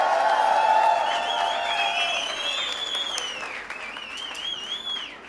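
Audience applause and cheering for a Chilean rock band at a live music session, loudest at the start and then thinning gradually, with high whistles rising over the clapping.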